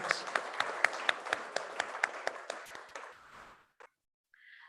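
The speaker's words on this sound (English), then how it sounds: "I think we deserve a good round of applause for this proud moment." Audience applause at the WHRC 2021 inauguration ceremony in Sri Lanka: a round of sharp, fairly close claps in a steady rhythm for about three seconds, tapering off into silence, followed by a brief tone at the end.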